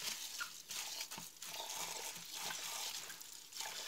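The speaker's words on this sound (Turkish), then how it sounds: "Beyaz suyu gidene kadar yıkayacağım ben bunu." Broken rice being rinsed in a bowl of water in a home kitchen, a steady close sloshing and trickling of water with soft splashes throughout, no talking.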